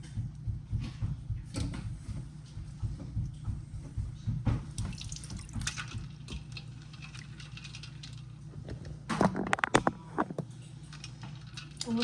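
Tap water runs steadily into a sink to fill an ice water bath for tied-up cottage cheese curds on a dairy farm, with patters and splashes continuing throughout, briefly louder near the end.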